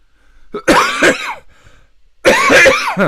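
Two loud, harsh coughs close by, each a burst of several rough hacks, separated by a short quiet gap with a faint breath.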